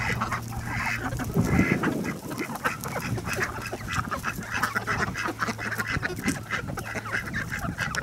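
Raspy quacking from a female duck, a run of rough calls over ongoing outdoor noise with other fowl sounds mixed in, fairly close and steady.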